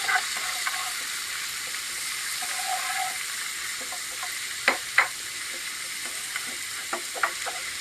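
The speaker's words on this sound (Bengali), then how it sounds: "ভালো করে নাড়াচাড়া দিয়ে নিব" Meat pieces fried in a pan and stirred, a continuous close sizzle with occasional sharper clacks and scrapes from the stirring spoon.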